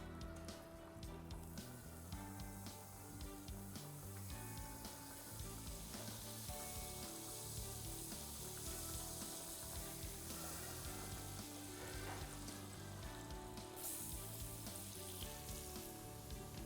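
Chopped leeks and celery cook in a soup pot over the fire, a steady sizzle running underneath continuous loud background music for the whole stretch.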